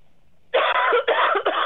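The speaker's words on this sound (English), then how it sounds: "Take a deep cough out of your stomach." Deep coughs forced up from the stomach during a live prayer session, three harsh, loud bursts close to the microphone after a brief quiet moment.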